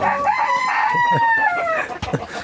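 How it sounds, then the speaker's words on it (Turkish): Chickens in a coop where eggs are being collected, one crowing in a loud drawn-out call close by, followed by short clucks. "Burada arkadaşlar 2, 4, 5 tane tavuk var."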